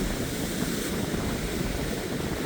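Ocean surf rolls onto a Florida beach at night under a full moon, a loud, constant wash of breaking waves mixed with steady wind rumble against the microphone, with no voices.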